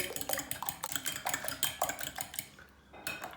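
Quick, rhythmic clinking of a whisk or fork beating eggs in a bowl, close up, with a brief pause near the end before it resumes.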